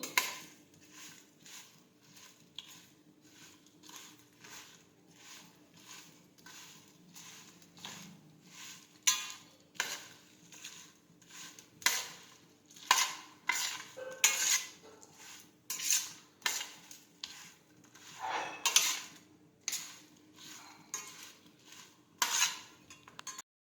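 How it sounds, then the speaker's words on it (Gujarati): A spoon stirs lemon juice into a bowl of chili sambharo, giving a close, steady run of light metallic clinks and scrapes, with no one speaking. "લીંબુનો રસ નાખીશું. હવે મિક્સ કરી દઈશું."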